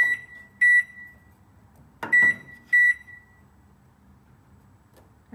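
A Black+Decker microwave gives three clear electronic beeps as its timer is set, spaced apart over several seconds with a quiet hum between them and a brief button click in the middle.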